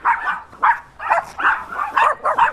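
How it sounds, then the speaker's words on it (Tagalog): Several dogs barking in quick, loud, irregular bursts at close range, one bark tumbling over the next. "Grabe, daming aso mga pre."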